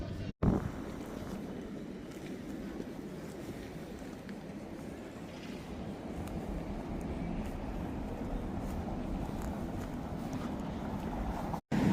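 Constant low rumbling wind buffeting the microphone in chilly Helsinki, steady throughout with brief cuts at the start and end.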